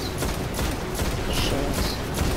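Gunfire in the video game Destiny during a Prison of Elders fight, with dense overlapping shots crackling steadily at moderate volume.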